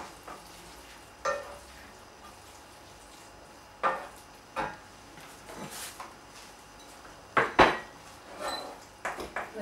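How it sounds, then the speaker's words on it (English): A spoon stirring pea and pancetta risotto in a pan makes a quiet, thick simmering sound, with scattered sharp scrapes and clinks against the metal and a cluster of louder knocks near the end. "So stir that all the way through."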